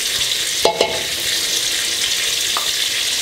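Crushed garlic cloves hit hot oil in a pan with a steady bright sizzle, interrupted by a couple of short scraping stirs against the pan.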